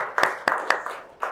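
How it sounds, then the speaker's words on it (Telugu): Welcome claps at a meditation center: a few sharp, spaced hand claps ring out close by, roughly four or five distinct slaps over little more than a second, with no talk over them. "సార్కి వెల్కమ్ క్లాప్స్."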